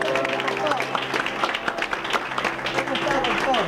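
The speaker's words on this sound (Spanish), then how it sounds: "¡Fuerte el aplauso!" Studio audience applause welcomes a political guest, Dr. César Jaroslavsky, onto a television talk show, steady clapping with crowd noise and a host's voice speaking over it throughout.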